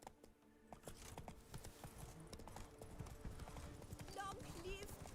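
Roach, the horse in The Witcher 3 video game, clip-clops along in a steady rhythmic trot, with a brief whinny near the end and someone talking over the hooves.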